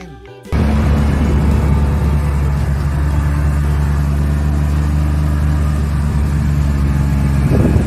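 A water tank truck's engine kicks in after a brief moment and then runs at a loud, steady idle-like rumble throughout, with no voices.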